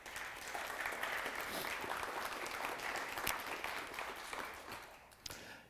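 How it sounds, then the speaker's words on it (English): Applause from attendees at a photography masterclass day, a fairly faint but steady wash of clapping from a small-to-medium crowd lasting about five seconds, tapering off with a final few claps. "can you give her a round of applause"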